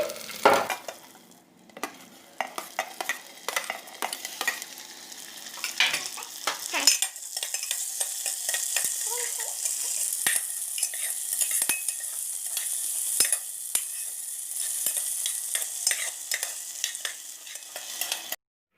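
Tomatoes hit a hot pan for chickpea biryani and sizzle steadily while a spoon scrapes and stirs them, with repeated clinks of metal against the pan throughout.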